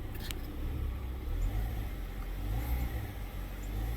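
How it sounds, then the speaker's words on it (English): A 2012 Hyundai Tucson GLS engine idles at close range as the throttle is blipped. The low rumble swells and eases in steady rev cycles, with a faint click near the start. "the RPMs going up and down as I hit the throttle"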